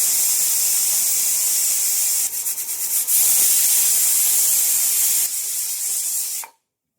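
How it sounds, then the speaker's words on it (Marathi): Pressure cooker on a gas stove letting off steam, a loud continuous high hiss that wavers and pulses briefly midway, surges again, then cuts off to silence near the end. "आता मी हे कुकर गॅसवर ठेवते आणि 2 शिट्या करून घेते"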